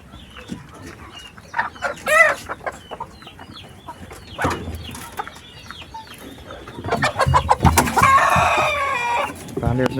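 Chickens and roosters on a small farm cluck and call in scattered bursts, a rooster crowing loudly toward the end, with a dog's bark mixed in and some talking among the birds.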